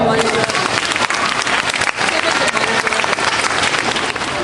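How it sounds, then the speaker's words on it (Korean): A crowd at a retirement ceremony gives dense, sustained applause, many hands clapping loudly and evenly throughout. "박수 한번 주십시오"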